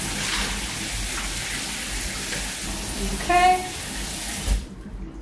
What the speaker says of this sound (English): So as soon as we rinse out those pre-mordanted ones, then we'll rinse out that one.